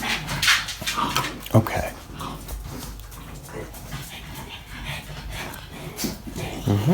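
Several dogs pant and whimper in short bursts around someone working on a Seiko 6309-7049 Turtle watch, close and fairly loud, while a person speaks briefly over the noise.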